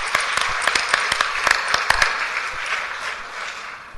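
Lecture audience applauding in a hall after thanks to Phil Clark at the 2013 Thewlis Lecture on Gerontology and Geriatrics; a steady wash of many hands clapping, fairly loud and continuous, tapering slightly toward the end.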